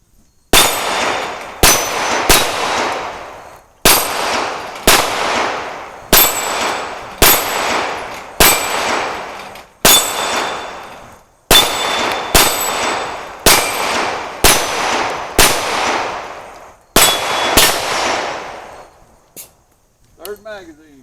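A SIG Sauer P320 X5 Legion pistol is fired at a range: loud, sharp shots come in quick pairs and triplets, about twenty in all with short pauses, each with a ringing metallic tail, then a brief rattle at the end.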